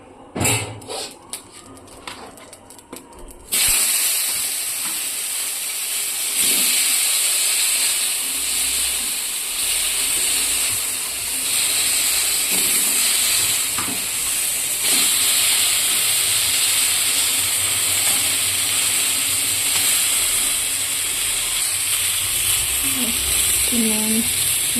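Washed potatoes frying in oil in a wok for a fish curry: after a few seconds of quieter sound, a loud, steady hiss of sizzling oil fills the rest, close and continuous.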